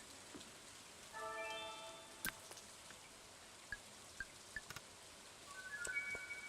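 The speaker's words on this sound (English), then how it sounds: "I hear rain." Rain falls on a farm in the video game Stardew Valley, a faint, soft patter under sparse drips and short game chimes, with no talking.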